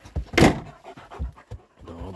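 A dog pants in quick, breathy bursts close by, with a few irregular puffs and some background thumps like a door or car.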